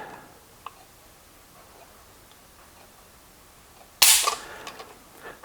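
A single sharp trigger click from an AMT Automag III, a .30 Carbine semi-auto pistol, as the trigger pull is measured with a gauge. A few quiet seconds come first, then one crisp, close click with a brief mechanical tail.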